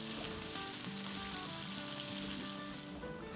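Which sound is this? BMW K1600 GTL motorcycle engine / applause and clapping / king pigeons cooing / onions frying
onions frying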